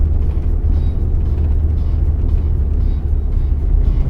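A car engine in a driving game on the Nintendo Switch, a steady loud low rumble that holds evenly throughout with no clear rise in pitch.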